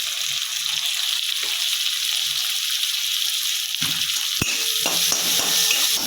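Onions sizzle in hot oil in a pan after ground turmeric and salt go in, a steady broadband frying hiss with a few stirring clatters near the end and no talking.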